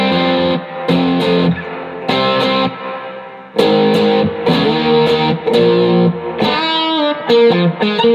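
Electric guitar played through a Yamaha THR10 II amp on its crunch setting, with reverb on, giving loud distorted chords struck in repeated bursts with short gaps between them, close and alone.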